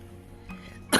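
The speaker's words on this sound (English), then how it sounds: "Don't worry about me, I always have cough." A single short, loud cough from a person with allergic rhinitis, close to the microphone at the end, after a quiet moment.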